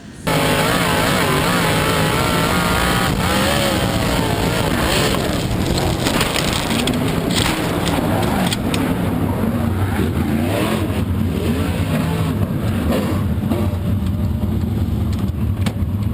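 Dirt track race cars roar and accelerate around an oval during a racing event, a loud, dense, continuous engine howl from several cars at once with rising revs, close and overwhelming throughout, with no voices heard.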